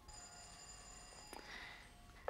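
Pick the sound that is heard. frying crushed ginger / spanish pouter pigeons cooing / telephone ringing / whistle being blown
telephone ringing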